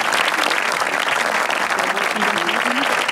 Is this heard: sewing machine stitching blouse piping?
no